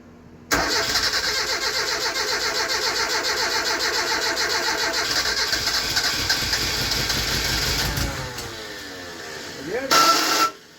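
Mitsubishi engine swapped into a Dodge Challenger cranks and catches: a loud, continuous rhythmic starter-and-engine roar for about seven seconds, fading, then a brief renewed burst at the end.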